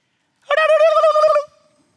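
A single turkey gobble, a loud warbling call lasting about a second, rings out clear and close beside a rustic rectangular hut of sticks and branches, with quiet before and after.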